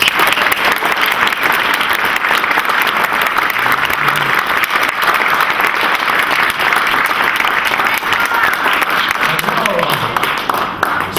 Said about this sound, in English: Please give this man a warm, warm welcome. Round of applause, Mr. Norm Clark.